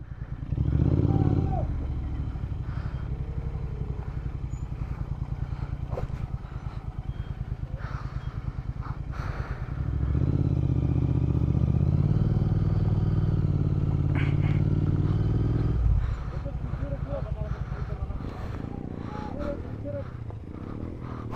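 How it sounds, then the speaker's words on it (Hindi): A motorcycle topples over on a snowy mountain track near Panchachuli base camp, its engine rumbling steadily with scraping clatter as it goes down, while people talk loudly close by throughout. "वो फिर से गिरी उनकी बाइक"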